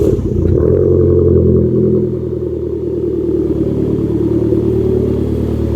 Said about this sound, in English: Hear the exhaust the first time.